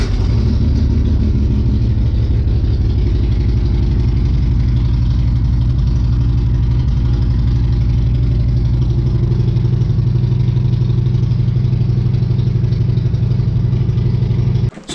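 A motorcycle engine idles in a steady low rumbling throb, loud and close, holding an even rhythm throughout before a brief disturbance at the very end, with no talking.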